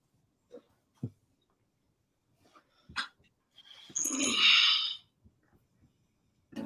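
Dog making a few short, sharp vocal sounds spaced apart, then a louder, longer whine or bark-like burst near the middle, close by in an otherwise quiet room.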